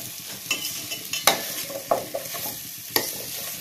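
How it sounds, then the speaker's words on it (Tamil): Drumstick pieces sauté in a hot pan for a dry fish curry, giving a steady sizzle with a few louder scraping stirs, close and without talk. "இதே நல்லா வதக்குங்க, வதங்கட்டும். காய் எல்லாமே நல்லா வதங்கட்டும்."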